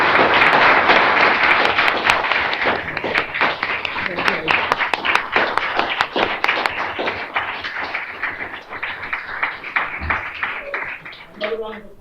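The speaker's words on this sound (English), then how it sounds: "Another round of applause for our fabulous panel" An audience applauds after the result of a law school moot court competition, with sustained loud clapping that holds steady and then thins out near the end, while a voice speaks briefly.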